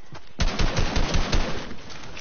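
Sustained automatic gunfire rattles in a steady, evenly spaced stream of close, punchy shots as a player tries to shoot something down in a video game, with no talking over it.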